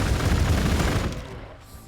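Space Marines firing in the Warhammer 40k Gladius strategy game: a dense, rumbling volley of gunfire, loud and close for over a second before fading away into near silence.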